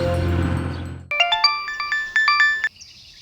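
A loud electronic phone ringtone plays a quick, bright melodic pattern of repeating beeps for a second or two, right after a stretch of dramatic music.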